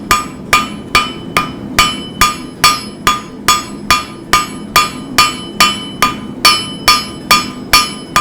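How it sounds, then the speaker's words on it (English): Steady, evenly spaced hammer blows ring out close and loud, about two per second, as the peen of a hammer strikes hot metal during forging, each hit a sharp metallic clang, with no talking. "I'm using the peen of the hammer"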